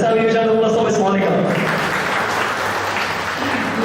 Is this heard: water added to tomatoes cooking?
no